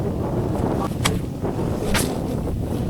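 Strong wind roars and buffets the microphone at a 500-year-old castle in Scotland. The steady, loud rush has a couple of brief, sharper gusts, and no one speaks.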